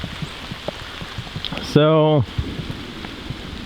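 Rain falls outdoors in a steady, close patter on surfaces, with a person briefly saying a single word partway through.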